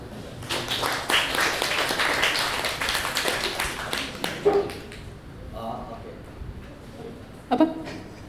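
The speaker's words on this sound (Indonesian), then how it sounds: "Mohon beri tepuk tangan." An audience at a short story reading event claps in a burst of loud, dense applause that thins out and fades, with a few scattered later claps and a dog barking briefly.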